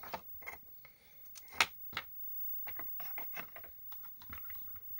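Keys pressed on a ZX Spectrum computer keyboard, cursor keys and space bar, giving a string of sharp, close clicks and taps at an uneven pace, quiet overall with one louder snap.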